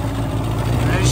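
A marine engine runs steadily at close range while its cooling water fails to pump out, a low droning hum under a person talking.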